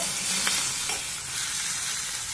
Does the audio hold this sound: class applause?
no